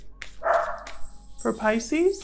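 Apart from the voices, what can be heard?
dogs barking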